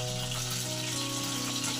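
Pieces of rohu fish fry in oil in a pan, a continuous close crackling sizzle over a low steady hum, even and unbroken throughout.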